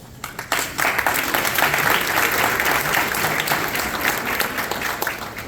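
An audience at a National Junior Honor Society induction ceremony applauds as the school principal comes up, starting with a few claps and swelling into sustained, even clapping that slowly fades near the end.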